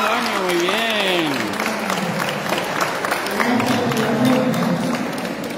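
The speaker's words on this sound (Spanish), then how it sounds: "aplauso para mis alumnos" A church congregation applauds second-year students after Sunday Mass, a steady wash of clapping running beneath a voice speaking over a loudspeaker.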